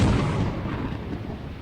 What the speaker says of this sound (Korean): 고라니 아이템 주려고 하다가 번개 맞아서 죽었어.